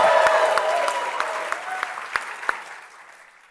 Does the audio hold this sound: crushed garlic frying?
no